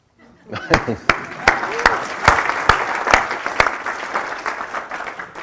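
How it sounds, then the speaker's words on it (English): Applause from a group, dense and steady, with a few sharp nearby claps standing out above the rest, continuing to the end. "I'm going to clap"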